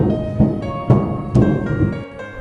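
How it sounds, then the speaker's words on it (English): Vent sound effect from a FNAF video game as the animatronic Springtrap enters a vent and leaves a sealed one: three sharp metallic clanks with echoing resonance spaced roughly half a second apart, followed by a fading hum, with no voices. "This is the sound of him entering the vent and leaving a sealed vent."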